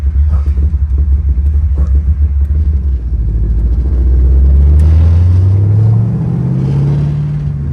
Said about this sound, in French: On ressent vraiment le moteur qui tremble et tout, j'adore.